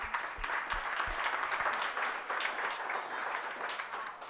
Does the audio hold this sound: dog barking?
no